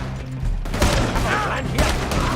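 Rapid bursts of gunfire in a video game crackle loudly and continuously, with shouting voices mixed in over the shooting.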